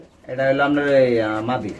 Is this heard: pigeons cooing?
yes